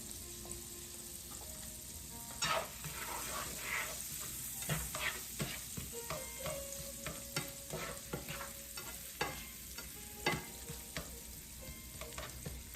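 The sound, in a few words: onions frying in butter in a pan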